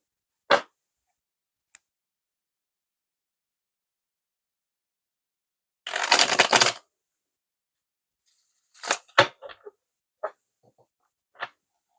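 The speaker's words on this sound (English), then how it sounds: "I go ahead and start shuffling the cards" Tarot cards shuffled by hand in a quiet room: one short papery riffle burst in the middle, with a few soft isolated taps and flicks scattered before and after.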